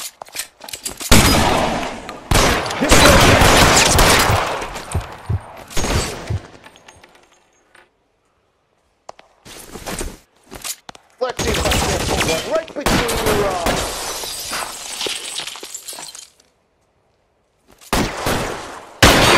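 Bursts of gunfire in L.A. Noire arrive in loud, dense volleys of rapid shots, separated by brief silent gaps, with scattered single reports between the longer strings.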